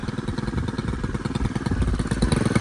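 A Stihl FS91R string trimmer with a freshly adjusted idle screw runs close by, its small engine putting out a loud, steady, rapidly pulsing idle with a rattly clatter.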